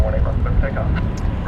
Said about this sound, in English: That is an Airbus A300.